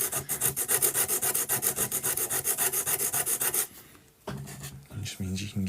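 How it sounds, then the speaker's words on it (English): A cut piece of nail file used as a sanding stick on wood while prepping dollhouse walls, giving quick, regular rasping strokes in a steady back-and-forth rhythm, then a pause and a few slower rubs close up. "Use as a sanding stick."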